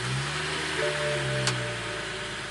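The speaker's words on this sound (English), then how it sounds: "Let's turn the car on." A BMW E92 running a JB4 tune is started, then settles into a steady, fairly loud engine hum with a faint tonal whine, with no talk over it.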